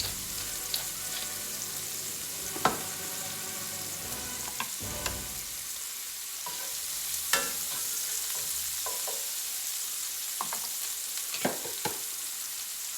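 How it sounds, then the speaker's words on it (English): Onions sweating gently in a pan, a steady soft sizzle running throughout while a wooden spoon scrapes and knocks against the pan in occasional stirring strokes. "Now you really don't want color on these onions, just want to sweat them a little bit."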